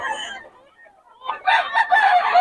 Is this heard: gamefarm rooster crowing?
yes